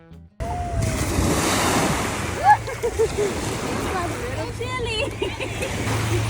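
Ocean surf rolls at a beach in a continuous broad wash, with wind buffeting the microphone and people talking over it.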